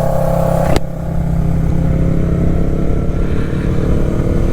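A Yamaha YZF-R3 motorcycle engine drones and revs steadily throughout, with a sharp burst near the start as it pulls harder, loud and close in a continuous accelerating roar.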